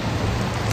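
Heavy rain pours steadily on a class C RV, a dense, close, continuous hiss and patter with no talk.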